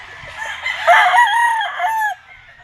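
A gamefowl rooster at a game farm lets out a single loud, close crow, rising and drawn out over about a second before trailing off into quiet.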